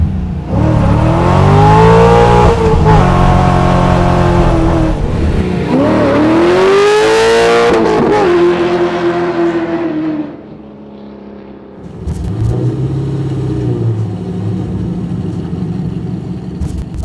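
A widebody pro-touring C3 Corvette with an LS6 V8 accelerating hard through its gears, loud and close, the engine note climbing, dropping at each shift and climbing again before easing off near the end.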